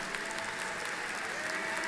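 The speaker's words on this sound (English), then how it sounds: "I'm gonna take a moment and give Dr. Lim a round of applause" Steady applause from a large audience at Dr. Teik Lim's NJIT inauguration ceremony, dense clapping sustained evenly throughout the brief moment with no voices standing out.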